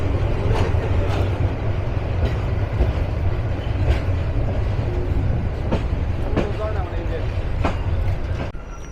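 The Tista Express train rolls into Dewanganj Bazar station, its carriages rumbling and clattering steadily up close with repeated rhythmic clicks from the wheels over rail joints throughout.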